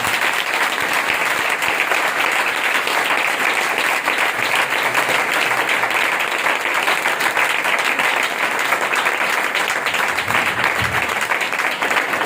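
Sustained applause from a church congregation in Pakistan, a dense and steady clapping that fills the room for the whole stretch with no break.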